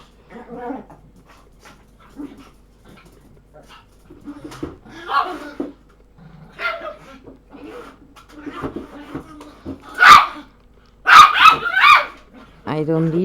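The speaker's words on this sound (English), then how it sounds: "the noisy one you're hearing is the one who got attacked a little while ago by one of my bigger dogs" A small dog still healing after an attack by a bigger dog makes repeated yelps, whimpers and short barks, near and intermittent, with some rubbing and scraping sounds and a voice talking between them.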